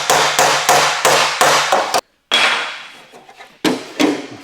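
A hammer flattens a rusty car body flange in a string of sharp metallic blows, about seven in quick rhythm. After a short pause a few more scattered strikes follow, loud and close.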